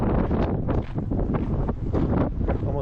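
Strong gusts of wind roar across a mountain summit in the San Gabriel Mountains, buffeting loudly and continuously with surging rushes close to the listener.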